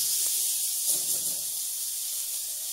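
A swordfish steak lightly seasoned with salt and pepper sizzles on a very hot griddle, giving a loud, steady, close-up hiss that barely changes.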